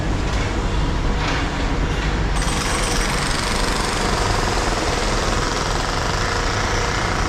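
Construction work on the Macau Light Rail Transit line along a city street, a loud, continuous mechanical pounding and rumble, like a jackhammer, that fills the whole stretch without letup.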